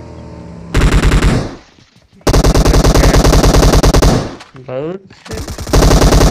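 Suppressed automatic gunfire from PUBG Mobile, loud, rapid bursts of muffled shots in several long strings with short pauses between them, while a voice speaks briefly.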